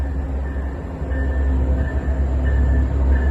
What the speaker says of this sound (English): Line train number 2225 to Big Timber is now arriving.